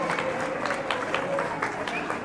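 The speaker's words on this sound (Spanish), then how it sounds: "Fuertes y calurosos aplausos para estas corredoras" Crowd applause for the women runners at a community race, a short continuous patter of clapping with some background chatter.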